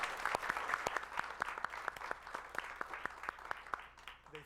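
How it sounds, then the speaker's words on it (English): An audience at a university fireside chat applauds with sparse, distinct claps standing out from a softer spread of clapping, moderately loud and even throughout before tapering at the end. "If we could give them a round of applause as well"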